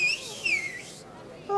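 Whistling with thin, sliding high tones under a stage puppet-theatre voice comedy, brief wavering notes fading out before a short louder burst at the end.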